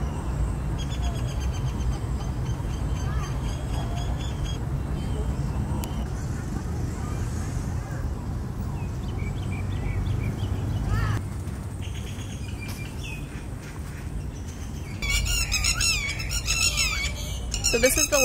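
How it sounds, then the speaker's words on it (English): Loud birds chirp and cackle at the Ayutthaya temple ruins in Thailand, a busy chorus of sharp calls and squawks that gets louder near the end, over a low rumble of outdoor background noise. "These loud freaking birds. They're just cackling like crazy."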